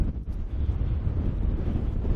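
Strong wind roars across the microphone on a windy coast, a loud continuous buffeting rumble with gusty swells and no pauses.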